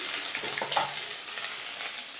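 Ginger and garlic paste sizzles in hot oil in a pan where fish has just been fried, a steady, close crackling hiss that carries on without pause and with no talking.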